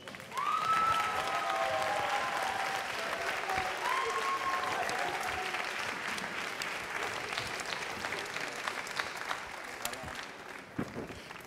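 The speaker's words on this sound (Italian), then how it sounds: "fate un applauso ai producer" A theatre audience at an Italian rap show applauds steadily and loudly, with a few whistles and cheers mixed in, the clapping slowly thinning toward the end.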